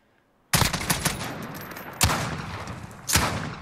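Three single shots from a FAMAS F1 Valorisé rifle in Call of Duty Modern Warfare, each a sharp loud crack with a short tail, spaced about a second and a half apart, no talk.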